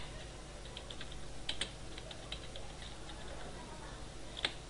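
Quiet typing on a computer keyboard, a loose patter of soft key clicks with a few sharper taps, set against a steady background hum.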